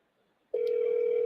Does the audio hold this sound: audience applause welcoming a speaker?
no